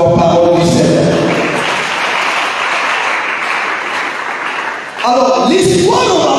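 A church congregation breaks into loud, sustained applause and cheering, a dense crowd roar lasting about five seconds before voices return near the end.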